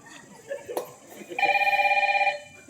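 A telephone rings in a rhythmic electronic burst of about a second, loud and near, after brief talk and a sharp knock, during a two-act Marathi stage play performance.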